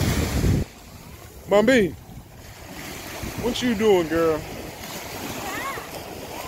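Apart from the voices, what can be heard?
ocean waves at a beach in Cancun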